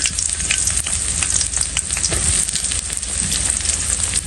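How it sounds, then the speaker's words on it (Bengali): Cardamom, cinnamon and chopped onion fry in hot oil with a loud, continuous close sizzle and crackle that stays even throughout, with no talking. "তেল গরম করে একটু এলাচ দারচিনি দিয়ে দিচ্ছি এটা একটু ভাজা ভাজি হলে এখন একটু পেঁয়াজ কুচি দিয়ে দিলাম"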